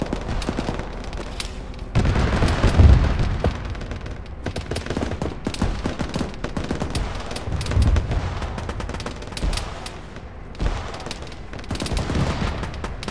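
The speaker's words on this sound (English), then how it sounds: "You're taking tank fire behind." Tank and small-arms fire in a ShackTac Arma military game session, with rapid, overlapping gunshot bursts and deep booms, some close and loud, others more distant, rolling on without a break.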